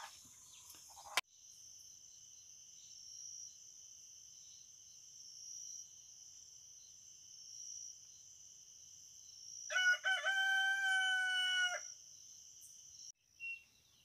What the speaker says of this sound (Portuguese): Os pássaros estão anunciando que o dia está brilhando.